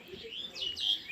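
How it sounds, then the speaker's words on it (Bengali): Birds high in the trees near a market route chirp and tweet faintly in quick rising and falling notes, with light wind around them. "দেখো পাখির কলরবটা কেমন হচ্ছে, শুনতে পাচ্ছ?"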